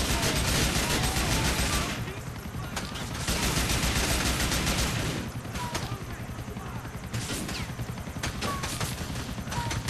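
Bursts of rapid gunfire aimed at police in GTA IV, coming in dense volleys with short lulls between them, loud and close under game noise, with a voice occasionally heard.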